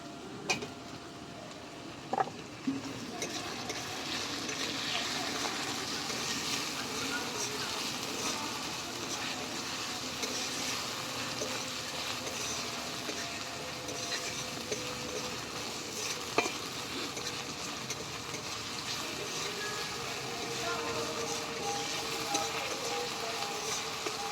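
Ginger, garlic, onion and tomato frying together in a pan for a rohu fish head curry, a soft continuous sizzle with faint stirring and occasional clinks, fairly quiet and even throughout.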